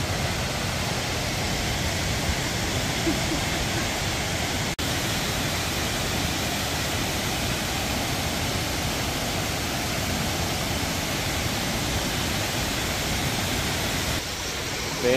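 Steady, loud rush of a waterfall near Međugorje, a broadband roar holding evenly throughout with no pauses, close and continuous.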